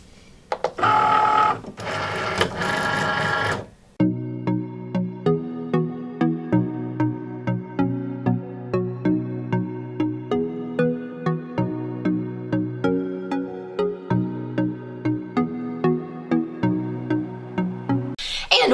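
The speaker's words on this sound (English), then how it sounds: "let your printed pattern vinyl cut." A Cricut cutting machine, such as the Explore Air 2, cuts printed pattern heat-transfer vinyl: a steady run of rhythmic mechanical whirring and stepping pulses, close and continuous after a brief louder burst of noise at the start.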